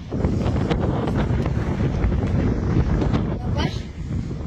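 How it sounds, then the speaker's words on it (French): Strong seaside wind buffets the microphone at Nazaré, a continuous, loud, low rumbling roar that covers everything for the whole stretch. "c'est vrai qu'il y a un peu beaucoup de vent"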